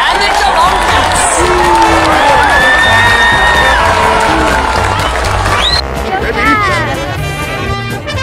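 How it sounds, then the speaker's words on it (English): A large crowd at the AFL Grand Final cheers, whoops and applauds the Sydney Swans and Geelong Cats, a loud continuous roar with shrill shouts and whistles rising above it. "a round of applause for the Sydney Swans and the Geelong Cats"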